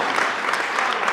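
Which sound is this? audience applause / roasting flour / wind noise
audience applause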